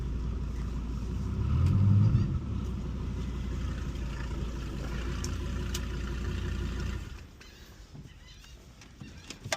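A nitrous-equipped Dodge Viper rumbles with a deep, steady low engine note as it rolls in for inspection, swelling briefly, then holding before the sound drops off sharply as it stops or shuts down.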